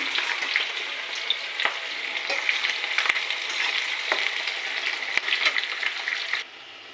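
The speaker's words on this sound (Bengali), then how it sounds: "এখন এই যে পেঁয়াজগুলো ভেজে নেব, ভালো করে লাল করে পেঁয়াজগুলো ভেজে নেব" Onions frying in mustard oil with bay leaf for a mutton curry, a steady close crackling sizzle with occasional stirring clicks that stops abruptly near the end.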